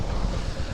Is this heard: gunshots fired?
no